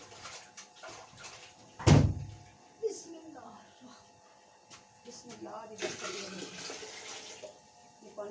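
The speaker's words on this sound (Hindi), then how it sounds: "ये पानी डाल दिया, अब इसके अंदर और डालते हैं।" Water pours into a cooking pot for kadhi pakora, a loud gushing splash near the two-second mark that trails off, followed by softer water and kitchen clatter; a voice talks faintly in the background.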